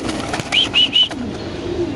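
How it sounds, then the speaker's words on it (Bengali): Restless pigeons for sale at a bird market stir close by, with a few short, sharp calls and light fluttering over a steady background murmur. "দেখেন দর্শক এত ছটফটা কবুতর"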